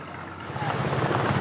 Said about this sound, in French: Tout à coup, dans le ciel, un hélicoptère.